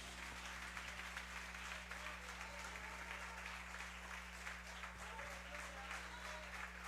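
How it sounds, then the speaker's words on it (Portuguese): A church congregation applauds in steady, dense applause that holds evenly throughout, with a low electrical hum underneath and no voices. "Aplauda Jesus por isso, amados."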